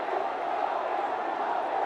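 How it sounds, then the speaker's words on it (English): Huge crowd at Arun Jaitley Stadium in New Delhi roaring to greet Virat Kohli walking out to bat in a Ranji Trophy match, a steady dense wash of distant cheering with no break. "The huge roar from the crowd."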